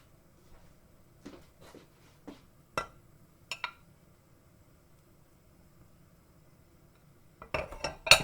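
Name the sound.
knife slicing coconut cream thinly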